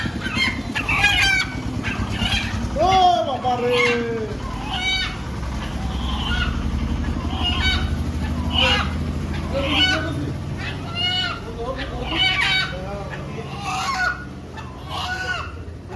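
Desi chickens at a chicken shop cluck and squawk repeatedly, close and busy, with occasional honk-like calls and brief talk among the birds.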